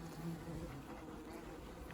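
A steady, dense buzz of many honeybees around a hive hums continuously, close by, with no talking.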